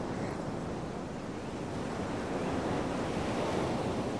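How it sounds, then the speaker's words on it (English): Ocean surf breaks along the Coromandel coast, a continuous loud wash of crashing waves with wind buffeting the microphone and no voices. "The surf of the Coromandel coast is dangerous."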